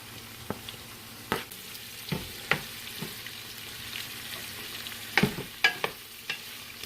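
Onions and garlic hitting hot oil in a soup pot for salami soup with sofrito, a soft steady sizzle broken by scattered clinks and scrapes of a stirring spoon against the pot, no talking.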